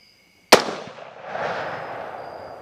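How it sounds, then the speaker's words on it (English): A single 6.5 Creedmoor rifle shot at a boar during a hog hunt, one sharp loud crack followed by a long rolling echo fading across open country, with no voices. "I steadied myself to take the shot"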